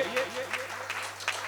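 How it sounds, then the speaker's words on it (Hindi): Applause from an audience at a Hindi poetry recital, a soft continuous patter of clapping at low level, heard on its own. "जोरदार तालियां इन बुजुर्गों के सम्मान में बजाइए।"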